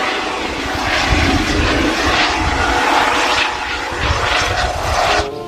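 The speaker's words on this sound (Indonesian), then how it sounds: "Ada juga helikopter berwarna hijau daun. Coba kita take off." A green helicopter lifts off in a video game, its engine whine and rotor roar holding steady and loud, swelling slightly as it rises.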